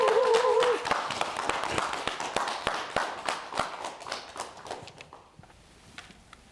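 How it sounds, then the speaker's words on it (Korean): An audience claps before a televised health lecture on liver care, scattered individual claps that thin out toward the end, with a brief tonal sound at the start. "여러분 박수 주십시오."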